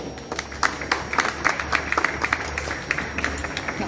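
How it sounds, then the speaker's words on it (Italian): A seated audience at an Italian book presentation claps steadily for several seconds, dense overlapping handclaps at moderate volume with no voice over them. "Intanto facciamo un applauso a Marco."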